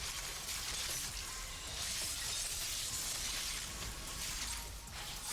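Frozen enemy shattering like ice in a video game, a loud, sustained crystalline crash with bright glassy breaking that fills the whole moment and carries no voices.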